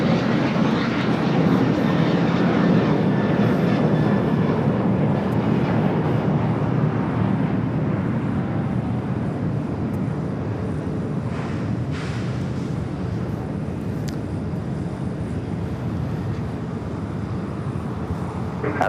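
A Boeing 777 freighter jet takes off at LAX with a loud, steady roar that fills the whole stretch, holding an even, dense rumble with no breaks.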